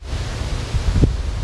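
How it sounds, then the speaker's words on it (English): Wind gusting outdoors on a street in Korea, a steady low buffeting rumble against the microphone with a few stronger gusts, no speech. "it's windy today."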